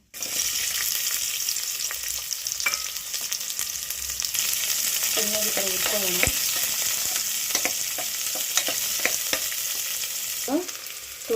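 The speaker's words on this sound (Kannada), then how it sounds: "ಸಣ್ಣದಂತ ಈರುಳ್ಳಿ ಹಾಕ್ಕೊಂಡಿದ್ದೀನಿ" Small onions frying in a little oil inside a pressure cooker, a continuous close sizzle with scraping stirs and clinks, and a few brief spoken words.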